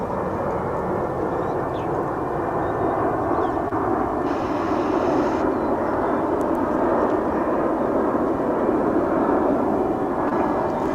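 An airplane departs Dallas/Fort Worth airport bound for Los Cabos, its jet engines a loud, steady roar that holds through the whole stretch.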